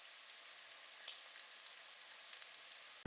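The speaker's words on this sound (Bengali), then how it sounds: "তেলটা ভালোভাবে গরম হয়ে গেলে চিংড়িগুলো ভেজে নেব।" Prawns fry in hot mustard oil in a wok, a faint, steady hiss dotted with small crackling pops, with no voices.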